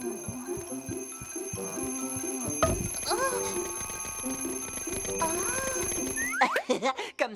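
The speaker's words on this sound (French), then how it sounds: "Il faut que Clafoutis mette son réveil loin de son lit." Cartoon alarm clock ringing in a children's animated cat family episode, a steady bright electronic ring running under cartoon voices and music, then cutting off near the end.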